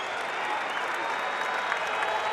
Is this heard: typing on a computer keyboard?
no